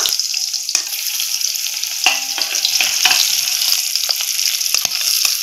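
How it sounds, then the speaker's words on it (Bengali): Shol fish frying in hot oil in a kadai, a loud, close, continuous sizzle with occasional spatters and a few soft clinks of a utensil, no talking. "এখন আমি মাছগুলো দিয়ে ভেজে নেব"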